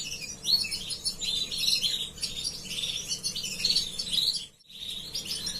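Small birds chirp and tweet in a busy, overlapping chatter close by, with a steady low background murmur and a brief pause near the end. The birds are young canaries, including a crested chick, in a nest.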